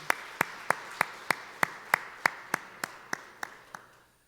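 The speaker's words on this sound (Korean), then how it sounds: "우리 수고해 주신 우리 코치님들, 속장님, 부속장님들 위해서 박수해 주시겠습니다." A church congregation claps in unison: about thirteen sharp, evenly spaced claps in a steady rhythm that slows and fades at the end, with no talking.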